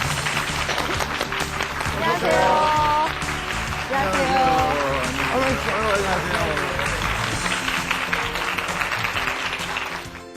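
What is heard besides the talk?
studio audience applause welcoming a doctor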